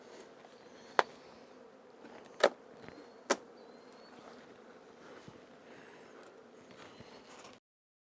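Honey bees in an opened beehive, a faint steady buzz throughout, with a few sharp knocks and clicks from handling the hive boxes near the start before the sound cuts off near the end.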